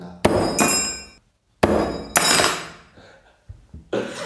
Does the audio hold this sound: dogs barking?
no